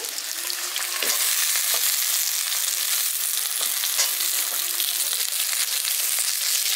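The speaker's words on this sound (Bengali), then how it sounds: "এবার কপিটাও আলুটার সঙ্গে একসঙ্গে ভেজে নিচ্ছি।" Cauliflower pieces and potatoes fry together in a pan for a village-style winter vegetable dish, giving a steady loud sizzle with occasional stirring scrapes.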